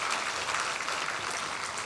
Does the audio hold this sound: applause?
yes